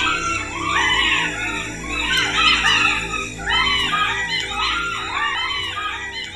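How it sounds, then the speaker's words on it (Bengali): A cartoon sound effect of a pack of jackals howling, with overlapping wavering howls rising and falling continuously in a loud chorus. "এর মধ্যে আবার শুরু হলো শিয়ালের ডাক।"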